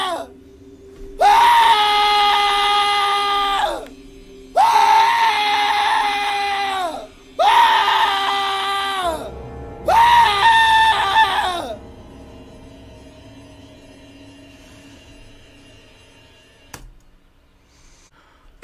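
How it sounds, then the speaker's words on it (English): A person screams in pain in four long, loud, anguished wails separated by brief gaps, followed by quieter fading sounds and a sharp knock near the end. "I heard the pain in that scream."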